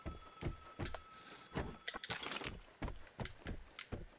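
A phone in the house rings in the video game Vigor, a run of short, evenly spaced bell bursts with a few clacks among them, fairly close and with nobody talking.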